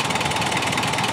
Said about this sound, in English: was trying it out with the tractor here